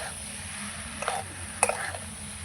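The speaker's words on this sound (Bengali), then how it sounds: "ভালো করে এবার কষিয়ে নেব আলু সোয়াবিনের সঙ্গে মশলা" Potatoes and soybean chunks cooking with spices in a pan make a soft, steady sizzle, with a couple of brief scraping stirs near the end.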